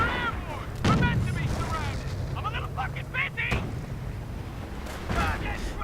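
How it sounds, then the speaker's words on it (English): Mortar rounds firing in a WWII strategy video game, sounding as repeated booming shots mixed with other battle gunfire, under continuous talk. "Mortar rounds need for fire."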